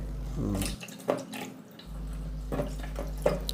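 Raw chicken being washed under running water in a sink, a close steady flow that pauses briefly, with splashes and drips as the meat is rinsed, no speech.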